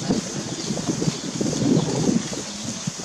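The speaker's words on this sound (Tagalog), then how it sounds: "Oy, hangin." Steady outdoor wind blows as a broad, constant rush at a shooting range, loud and unbroken for the whole stretch with no other clear sounds.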